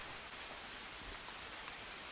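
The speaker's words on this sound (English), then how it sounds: "Is it raining?" Steady rain falls in the jungle of the survival game Green Hell, a faint, even hiss of drops with no breaks and no other sounds standing out.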